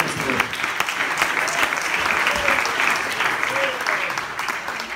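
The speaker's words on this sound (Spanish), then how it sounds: "Dale el aplauso, hermano." A church congregation breaks into sustained, enthusiastic applause, dense clapping from many hands filling the room steadily for several seconds.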